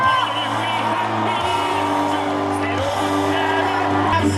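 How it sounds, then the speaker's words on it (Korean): Crowd at an outdoor political campaign rally cheering and shouting, a dense continuous roar with whoops and voices rising over amplified sound. "큰 박수 보내주십시오"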